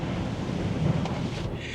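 Wind buffeting around a 22-year-old L322 Range Rover Vogue parked up high, a steady low rumbling rush against the microphone with no speech.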